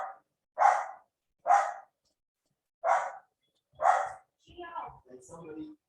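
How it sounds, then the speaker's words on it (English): A dog gives several sharp, separate barks at an even pace, close and clear, before a person starts talking at the end. "my dog is barking."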